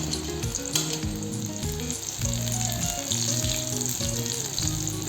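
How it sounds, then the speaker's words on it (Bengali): Stuffed kangla fish fries sizzle in hot oil, a constant, fairly quiet bubbling hiss that carries on without a break, with no talking. "পুরগুলো লাল লাল করে ভেজে নিতে হবে"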